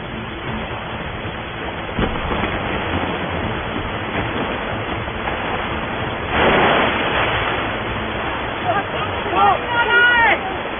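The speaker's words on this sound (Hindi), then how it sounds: "बाढ़ का पानी आ रहा है।" Flood water rushes in a continuous loud roar that swells around the middle of the stretch, with people's voices faintly mixed in over the torrent.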